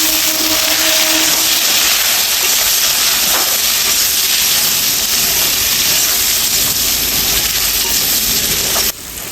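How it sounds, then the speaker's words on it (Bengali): Elephant foot yam and potato dropped into hot oil seasoned with cumin seeds and green chilli, a loud, dense sizzle and hiss close by that continues steadily before dropping off near the end. "এবার ওলটা আর আলুটা দিয়ে দেবো।"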